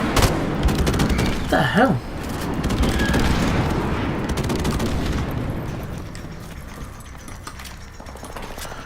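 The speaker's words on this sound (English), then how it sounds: "Friendly airstrike on the way." A friendly airstrike and gunfire rumble through a video game, with dense bursts of shots and booming explosions forming a loud, continuous wash of battle noise; a voice exclaims briefly early on.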